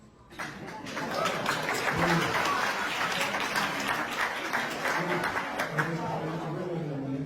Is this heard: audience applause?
yes